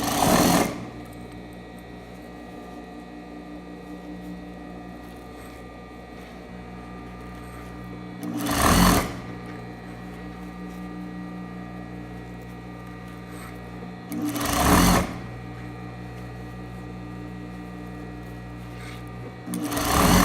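A sewing machine top stitching bias tape onto a waistband, running in short buzzing bursts of a second or two, separated by long stretches of quiet low hum.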